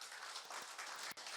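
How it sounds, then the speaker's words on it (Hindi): A church congregation at a Sunday Hindi service applauds for the Lord, giving a short burst of dense, steady clapping that fills the room and briefly drops out near the end. "मैं जोरदार ताली प्रभु को दे"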